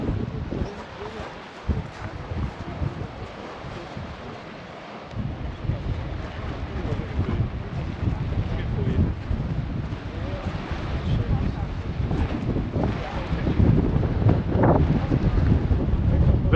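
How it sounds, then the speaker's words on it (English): Strong gusting wind buffets the microphone on a black volcanic sand coast in Lanzarote, a continuous rough roar that swells louder toward the end, with a voice speaking over it. "Very blowy up here again."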